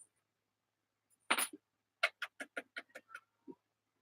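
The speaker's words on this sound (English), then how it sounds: "They're all meowing at me." House cats meow nearby: one longer call, then a quick run of short, chirpy mews and a last brief one, fairly quiet in a calm indoor room.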